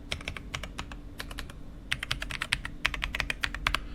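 Steady typing on an RK Royal Kludge R75 wired 75% mechanical keyboard, close-up clacky keystrokes in uneven rapid runs with a brief lull midway, no voices.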